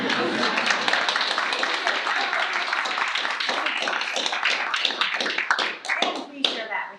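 Applause from an audience at a school board of education study session, dense broadband clapping that stays steady for several seconds and thins out toward the end, fairly close and loud with no voices over it.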